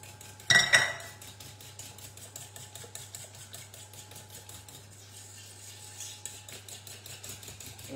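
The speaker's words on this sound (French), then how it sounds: "On ajoute le jus de citron chaud, on fouette." Hot lemon juice being whisked into cheesecake mixture in a bowl, a quick rapid ticking of whisk wires against the bowl after a sharp clatter at the start, fairly faint and continuous.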